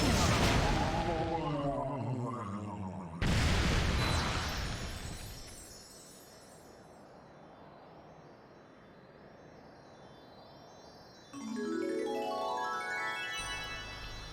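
In a Super Mario Galaxy 2 boss fight, loud cannon blasts and bomb explosions hit in bursts, with a sharp boom opening the scene, a long fading rumble, then another burst of booming and ringing game effects.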